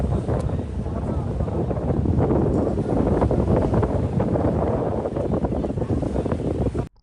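A big boat crosses the muddy Essequibo River in Guyana, giving a steady, loud roar of engine, water and wind buffeting the microphone that runs without a break until an abrupt stop.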